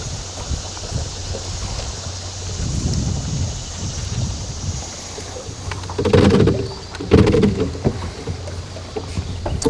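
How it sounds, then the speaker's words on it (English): Wind blows across open water from the west, a steady rushing buffet on the microphone with louder gusts midway, alongside faint boat and water sounds. "The wind's kind of blowing around from the west now."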